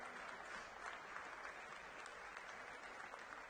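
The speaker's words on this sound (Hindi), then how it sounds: "ताली थोड़ी धीरे नहीं है?" Steady, sustained clapping from a large audience at a Delhi political rally addressed by Chief Minister Rekha Gupta, an even, dense wash of applause with no pauses.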